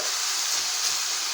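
Chicken sizzles steadily in a hot pan while cooking for chicken alfredo pasta, a close, even hissing fry with no pauses.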